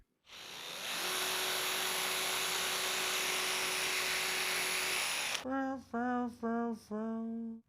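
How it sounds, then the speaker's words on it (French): A weak small cordless screwdriver whirs steadily at a high pitch for several seconds, then stops; a voice speaks briefly afterward. "Je vais commencer avec cette petite visseuse ici, qui est vraiment faible."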